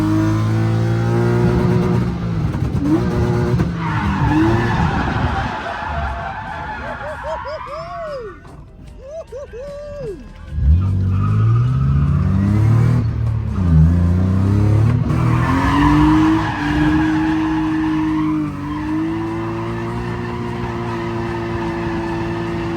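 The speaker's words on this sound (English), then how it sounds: "we're gonna just keep on driving" Car in the game Leadfoot City lapping a course, engine revving and shifting pitch as tires squeal and skid through turns, loud and continuous from start to finish.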